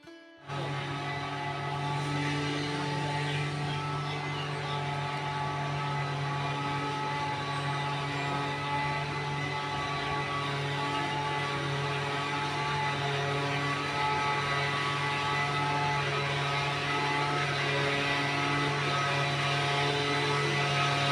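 Steady droning machine cutting leaves in a neighbour's garden right beside a kitchen, a continuous tonal hum running unbroken and fairly loud throughout, with no talk.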